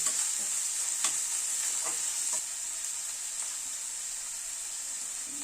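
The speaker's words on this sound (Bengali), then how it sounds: "হালকা করে পেঁয়াজটা ভাজলাম" Onions frying lightly in a pan for a flat bean and shrimp mash, with a steady close sizzle and a few soft stirring scrapes.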